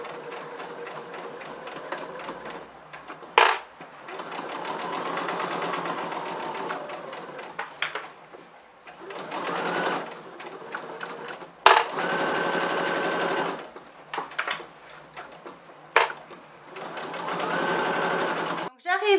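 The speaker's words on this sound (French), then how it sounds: "Je me positionne et c'est parti pour ma couture." A sewing machine stitches along fabric at a lengthened 3.5 stitch while making a vanity case, running in several sustained bursts separated by short pauses, with someone talking between and over the runs.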